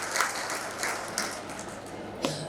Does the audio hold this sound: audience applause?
yes